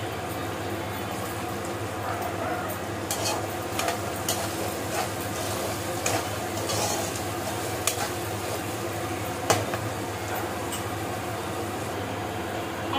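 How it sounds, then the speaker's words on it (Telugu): Onions frying in oil in a pan with salt added, cooking for semiya upma, give a steady soft sizzle with occasional sharp clicks and scrapes of stirring throughout. "ఆనియన్స్ అయితే బాగా ఫ్రై అయిపోయినాయి."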